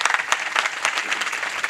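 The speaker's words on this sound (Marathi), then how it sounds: "सर्वांनी जरा जोरात टाळी वाजवा यांच्याकरता" An audience at a Marathi kirtan bursts into loud, continuous applause, with many hands clapping together in a dense, lively patter throughout.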